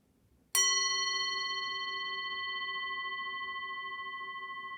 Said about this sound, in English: keep breathing for a while until you hear the sound of the bell